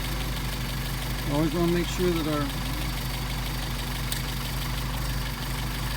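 A Mercedes 190SL engine with Solex carburetors idles steadily in cold weather, a low even hum running throughout while someone talks over it close by.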